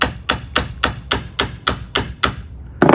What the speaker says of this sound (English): use a hammer and go ahead and bang this down